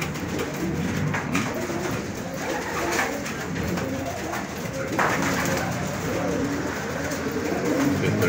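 Racing pigeons coo steadily and close by in a loft after a hard race, layered soft throaty calls overlapping throughout, with faint voices in the background.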